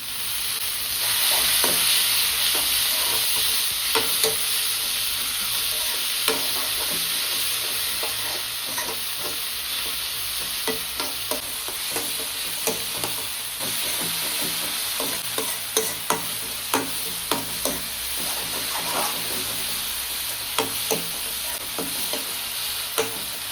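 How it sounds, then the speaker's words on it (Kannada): Tomatoes frying in a pan for a green gram palya sizzle steadily over a long stretch, with frequent clicking stirring and mashing strokes close by and no speech. "ಟೊಮೊಟೊ ನೋಡ್ರಿ ಈ ರೀತಿ ಇದು ಚಂದಾಗ ಸ್ಮ್ಯಾಶ್ ಆಗಬೇಕಾ ಅಲ್ಲಿವರೆಗೂ ಇದನ್ನು ಚಂದಾಗ ಫ್ರೈ ಮಾಡ್ಕೊಳ್ರಿ"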